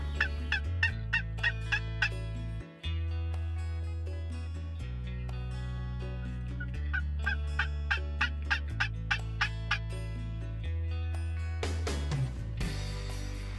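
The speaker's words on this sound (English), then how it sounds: "We hear them gobbling" Wild turkeys gobble in rapid rattling bursts, repeated several times over a steady low drone, some calls nearer and louder than others.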